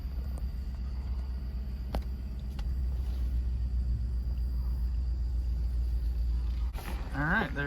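Inside a car driving very slowly down a road, a steady low engine and road rumble fills the cabin before a voice briefly speaks near the end.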